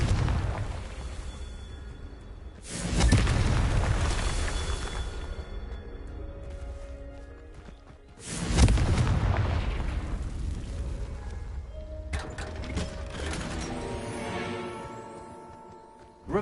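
Confringo blast spells in Hogwarts Legacy on PS4: two loud, booming explosions about five seconds apart, each rolling off slowly over game music and ambience, followed by further crackling impacts near the end.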